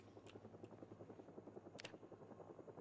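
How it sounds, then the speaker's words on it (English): A helicopter flies overhead in Project Zomboid, its rotor chopping in a faint, steady pulsing rhythm with a couple of brief sharp game sounds on top. "There's the helicopter."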